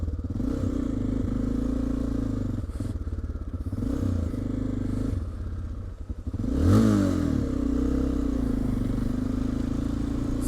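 Honda Dominator 650 motorcycle engine while riding near a Portugal border crossing, a steady loud droning roar with a rattling stretch and a rising rev surge midway, continuous throughout.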